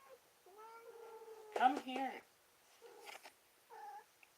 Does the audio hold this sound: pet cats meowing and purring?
yes